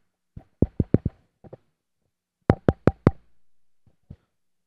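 Knocking on a door in a TV show: two quick bursts of about four sharp raps each, separated by a short pause, with a couple of lighter single knocks afterward, heard loud and close against near-silence.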